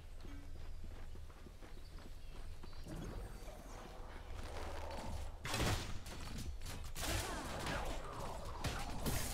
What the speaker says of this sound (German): Der macht ja schon Schaden, also der Pfeilregen.